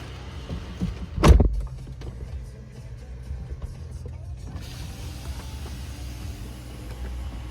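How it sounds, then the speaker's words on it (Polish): A Mercedes-Benz GLE 450 4Matic with a 367 hp engine starts up: one short, loud cranking burst, then a quieter pause before a steady low idle rumble settles in close by. "Może sobie uruchomimy samochód."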